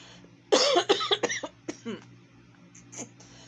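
A burst of several harsh coughs close by, followed by a few weaker coughs and throat-clearing sounds trailing off.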